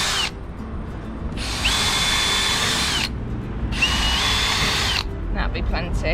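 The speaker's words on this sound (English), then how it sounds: "I'm going to use my pilot drill, as always." A pilot drill fitted with a 5mm bit bores holes into pallet wood. Two long whirring bursts with a steady high motor whine, close and loud, are set apart by short pauses with a little handling noise between them.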